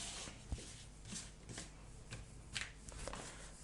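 Tarot cards are shuffled and drawn close up, giving a soft, continuous riffle with light slaps as cards are pulled to draw five for a reading.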